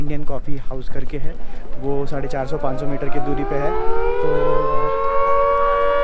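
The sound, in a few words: 5 pm siren for office workers in Shimla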